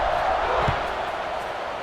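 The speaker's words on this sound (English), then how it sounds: "this crowd is buzzing after that last score" A large stadium crowd in a college football video game buzzing with a steady dense roar of voices, loud and continuous, with a commentator's voice faintly over it.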